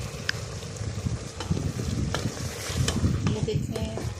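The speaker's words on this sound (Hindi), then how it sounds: "ये डालकर अच्छे से भून लें।" Chickpeas frying in a pan with ground black pepper and masala for dhaba-style chawal chole, giving a steady close sizzle with stirring scrapes and scattered clicks throughout, no speech over it.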